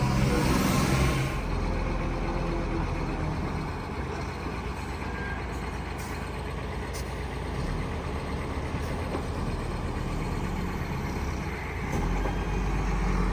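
A loaded truck rumbles along at a steady pace on a hot day at a warehouse building site, its low engine drone continuous and moderately close with no talk over it.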